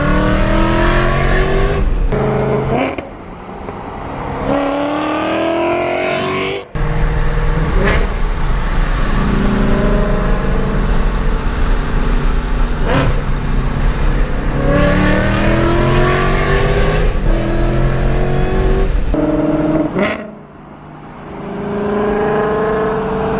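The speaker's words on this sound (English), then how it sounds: "the rev matches with that car is beyond incredible" A 700-horsepower Mustang GT engine revs hard and loud through repeated rev-matched downshifts, each blip rising and falling in pitch with short gaps between shifts and no talking.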